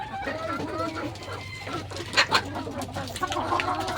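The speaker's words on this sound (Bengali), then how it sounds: "এগুলো কিন্তু সবগুলো অরিজিনাল দেশি মুরগি" Native deshi hens cluck on a farm, with a couple of sharper clucks standing out briefly amid steady low background noise while a voice talks over them.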